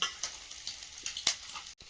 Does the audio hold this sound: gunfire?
no